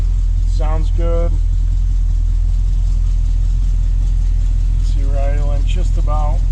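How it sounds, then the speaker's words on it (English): A 1967 Chevrolet Camaro convertible restomod with an automatic transmission idles low and steady at close range, a constant heavy rumble. Someone talks over it at the start and near the end. "Idling just about 600 RPM."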